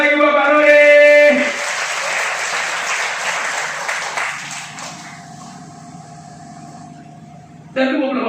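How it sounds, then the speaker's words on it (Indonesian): Pub audience applause for Bapak Rudi at a Revolusi Mental event at New Hunter Pub: a loud burst of many hands clapping that swells, then thins and tapers off over several seconds, with a tonal hum and voices around it. "Tepuk tangan sekali lagi Bapak Rudi"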